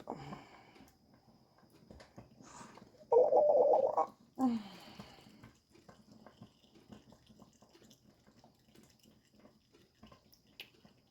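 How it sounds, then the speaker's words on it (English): Hot beautyberry syrup being strained through a cloth that is then twisted: a brief burst of pouring, gurgling liquid, a second splash, then soft drips and rustling, close up and without speech. "So we're going to let that strain out for a second and kind of twist it up."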